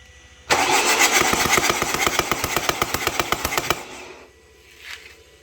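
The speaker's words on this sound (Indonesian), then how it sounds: "Nah, oke, Sun, coba starter, Sun." A 2012 Chevrolet Captiva FL diesel engine is cranked by the starter, a rapid rhythmic chugging for about three seconds that stops without catching, close and loud in a workshop.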